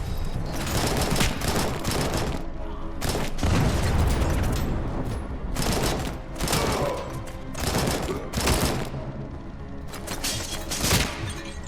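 Machine gun fire in the video game RoboCop: Rogue City, loud, dense bursts of rapid shots broken by short pauses, with booming impacts mixed in.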